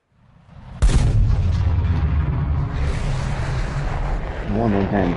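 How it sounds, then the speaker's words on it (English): Jet sonic booms in War Thunder around an Israeli F-16 Netz, a sudden heavy boom that rolls into a long, loud roaring rumble, with faint voice-like sounds near the end. "that of them sonic booms I just got"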